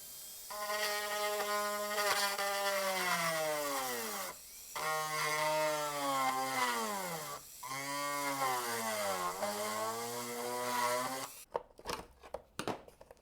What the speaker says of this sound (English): I'm just going to use the ball end, see that little bit right there, to grind them down with the Dremel